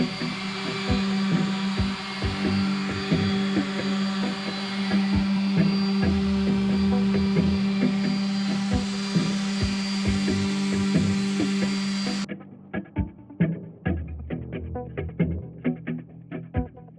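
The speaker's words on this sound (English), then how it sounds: "And more sanding." Power sander working across a hackberry slab for a live edge coffee table, a steady loud machine drone with a strong low hum that runs continuously, then cuts off abruptly into scattered knocks and handling noises.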